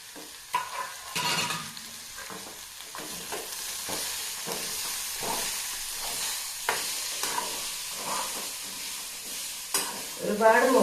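Grated coconut frying with garlic, cumin and curry leaves in a pan, a soft continuous sizzle broken by repeated scraping strokes of a spoon stirring it.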